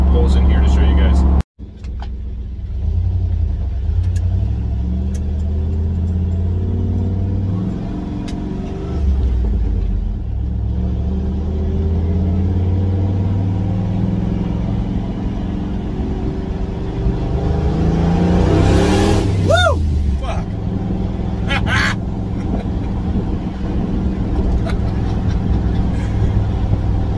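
A turbocharged EFI 460 V8 running on E85 accelerates hard in a long pull, its deep engine roar and rumble building steadily, with a brief sharp whine midway heard from inside the vehicle.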